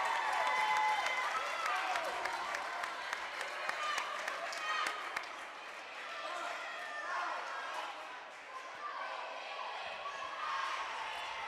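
A standing-room crowd at a high school volleyball game in Andover claps and cheers in a sustained roar, with whistles, shouts and sharp gym sounds cutting through and talk audible underneath.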